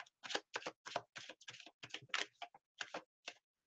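Tarot cards being shuffled by hand, a quick run of close, crisp riffling bursts with short pauses between them.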